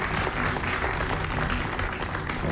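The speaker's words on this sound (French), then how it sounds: "Avant, je voudrais juste demander au public d'applaudir encore une fois Harry." A theatre audience applauds Harry, a dense, steady clapping close by with no pauses.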